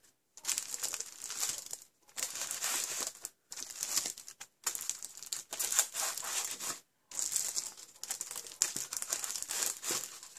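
Paper greeting cards rustle and crinkle as they are slid into a fold-flat card box, in repeated close bursts of crisp papery handling separated by short pauses.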